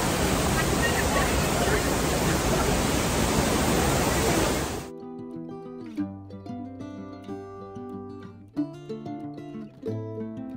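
Loud, steady rushing water from a waterfall in a South Goa wildlife sanctuary roars for about five seconds, then cuts out, leaving quiet music with no water sound.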